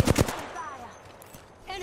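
Video game gunfire from Apex Legends: a couple of loud, sharp shot bursts at the start, then quieter game sounds, with a harmonic voice-like tone near the end.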